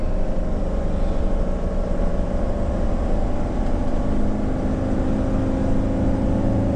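A 2003 National RV Seabreeze LX, a 35-foot gas Class A motorhome with a steel frame, pulls uphill on a Georgia road, its engine a steady, loud, close droning roar with road rumble and no talk.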